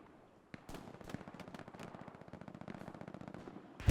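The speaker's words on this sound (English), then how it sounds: "Vanguarda finally got at least one MG up over here." A machine gun fires in a competitive multiplayer war video game on the Omaha map: one sharp shot, then a long, rapid, evenly spaced stream of rounds, loud and close, ending with a heavier bang.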